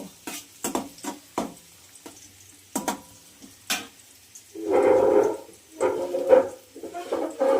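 Onions fry in a pan on a home stove, with intermittent stirring clatter and scraping at first, then a steady loud sizzle that swells and fades in bursts, close by.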